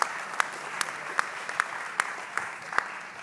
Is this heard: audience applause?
yes